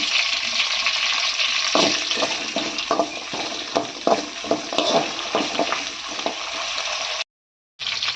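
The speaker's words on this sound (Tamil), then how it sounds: "கடுகும் வெந்தயமும் நல்லா பொரிஞ்சிருச்சு இப்போ சின்ன வெங்காயம் சேர்த்துக்கலாம் கருவேப்பிலையை சேர்த்துக்கலாம்" Shallots and curry leaves fry with mustard seeds and fenugreek, giving a constant close sizzle broken by rhythmic stirring scrapes, which ends with an abrupt cut to silence near the end.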